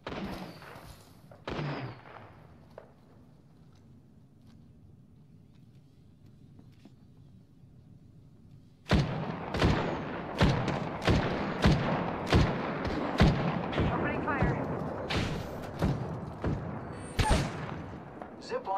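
Heavy gunfire in the battle royale game Apex: from about nine seconds, a dense string of sharp, loud shots and bursts rings out, preceded by quieter ambience, with scattered distant pops early on.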